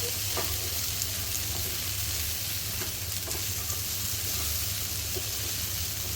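Pieces of suran yam sizzle and fry in a pan while being stirred, a steady close hiss with occasional light scraping clicks, no voices.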